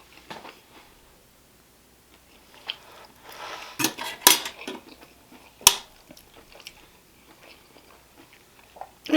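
Roasted pork chops with rice and garlic are eaten with utensils, heard as quiet close chewing and biting, soft crunches, and sharp clinks of cutlery against a plate in scattered bursts, with no talking.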